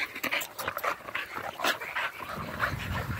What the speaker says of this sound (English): Got the dogs out this morning.